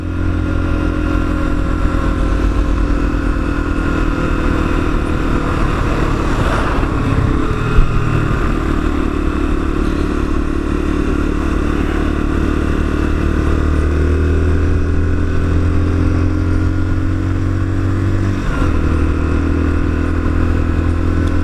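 Lexmoto Assault motorcycle ridden on the road, a continuous close engine drone with gear and throttle shifts and wind rush, no speech.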